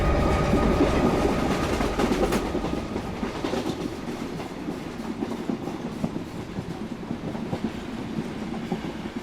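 Train cars rolling steadily along the tracks with a continuous rumbling clickety-clack, loud and close at first, then easing slightly but staying constant throughout, with no voices.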